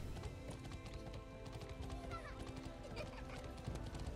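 Horse hooves clip-clop steadily in the fantasy MMORPG Bless Online as a mounted character rides toward a castle plaza, a continuous rhythmic gait under dense game music and ambience.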